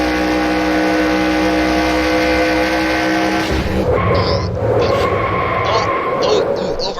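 A race car crashes at over 100 miles per hour in a racing video game at Atlanta, with engine roar dropping into a burst of scraping and skidding noise while a voice talks throughout.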